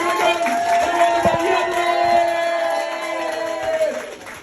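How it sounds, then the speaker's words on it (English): A comedy club audience cheers and whoops as a performer is welcomed onstage, a steady crowd roar with sustained tonal music running underneath and a few sharp claps. "Welcome to the stage with a massive round of applause"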